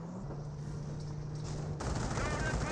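MG42 machine gun fire in the WWII strategy game Company of Heroes, a steady low rattle of rapid bursts under a commentator's voice, swelling louder near the end.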